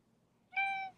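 A single cat meow, played as a sound quiz recording, is short and clear with a rising, harmonic tone lasting under half a second over quiet background.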